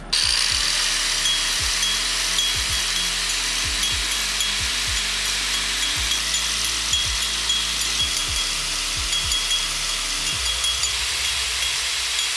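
An angle grinder smooths a spinning homemade football, making a loud, continuous grinding whine with a regular series of rhythmic knocks as the ball turns, easing off near the end.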